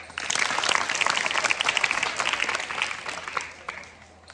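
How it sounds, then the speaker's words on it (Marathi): Audience applause for Sakshi, honored as the first from her village to become an officer: dense clapping swells quickly, holds steady for a few seconds, then thins and fades out. "सर्वांनी टाळ्या वाजवून साक्षीचं कौतुक करा"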